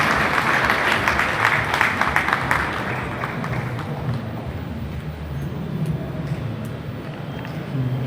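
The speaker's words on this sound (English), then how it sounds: "Please put your hands together for him." Loud crowd applause and cheering at a business summit that thins out midway, leaving a roomy rumbling din with scattered claps toward the end.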